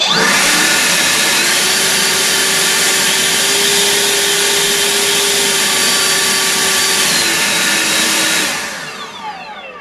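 Hyundai HYB60Li cordless leaf blower running close by at high speed, a loud, steady whirring rush with a whine that holds for several seconds before the motor winds down near the end.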